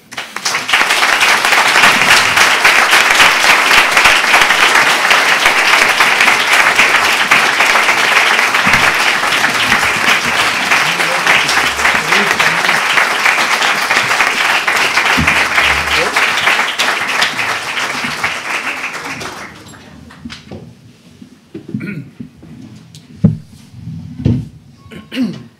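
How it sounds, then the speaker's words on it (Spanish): A large audience at a diplomatic literary event applauds loudly and steadily for about twenty seconds, then the clapping stops abruptly, leaving quiet room sounds and a few thumps. "Un aplauso."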